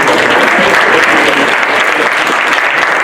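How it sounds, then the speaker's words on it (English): Loud, dense audience applause after a magic trick performance with an invisible deck, a steady close wash of many hands clapping throughout. "Keep that round of applause for Dave Hennig"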